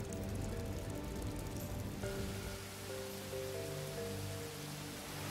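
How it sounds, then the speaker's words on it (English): Torrential rain pours down on a building construction site with wet decks, a steady dense hiss of driving rain throughout, joined by a low rumble and faint tonal machine hum, with the rain's texture shifting partway through. "A torrential downpour, which would one day fuel the building's water reclamation system, now forces most of the construction to a screeching halt."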